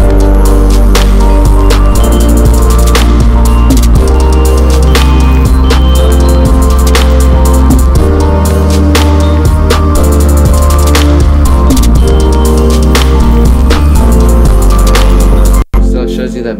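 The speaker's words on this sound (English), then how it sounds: "So now when we play back the track with that bass added in, it sounds like this." Full electronic music track played back in a studio with a heavy synth bass added under the chorus, loud and dense with steady rhythmic hits throughout, ending with a brief dropout near the close.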